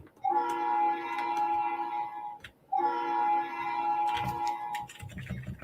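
In a video game, a train sounds two long, loud horn blasts separated by a short gap, followed by rumbling rail noise as it passes, with no talking.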